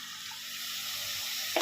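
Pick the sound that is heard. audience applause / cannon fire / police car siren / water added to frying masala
water added to frying masala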